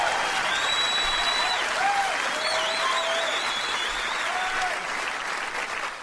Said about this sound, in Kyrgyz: Бул кол чабалар сиз үчүн эже.